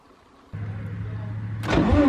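A car engine fitted with a Haltech Elite fuel-injection system cranks briefly with a low steady whir, then catches and fires with a louder surge into running, close by and without talk.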